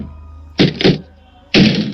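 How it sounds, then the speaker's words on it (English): Heavy thuds strike a front door as a sound effect. A quick double bang is followed after a pause by one more forceful hit, all loud and close against a quiet background. "There was a bang at the front door."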